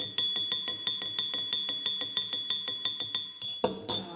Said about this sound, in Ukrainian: Стук ложечки в склянці.